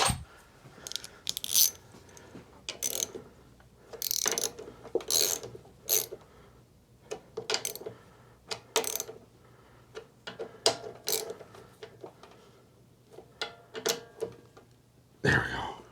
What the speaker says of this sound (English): So I'm gonna get a ratchet and a deep socket.